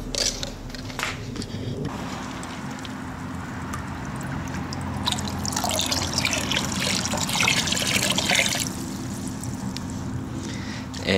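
Water splashes and trickles steadily into a container, with a fuller gush of pouring midway, fairly close and continuous.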